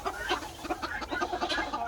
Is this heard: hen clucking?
yes